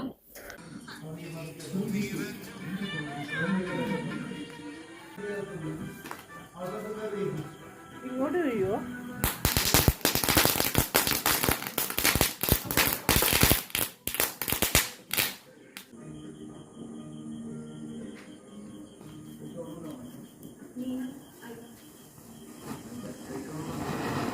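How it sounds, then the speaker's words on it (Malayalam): A rapid string of firecrackers bursts in sharp, loud crackling pops for several seconds during Vishu celebrations, with people talking before and after. "നമ്മുടെ മെയിൻ ഐറ്റമായ പടക്കം എത്തിയിട്ടുണ്ട്. അപ്പോൾ അത് അടുത്തതായി പൊട്ടിക്കാൻ പോവാണ്."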